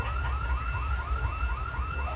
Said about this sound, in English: Just a generic stop it alarm that goes off when you do too many evil things in a row.